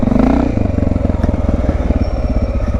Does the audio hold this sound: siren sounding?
no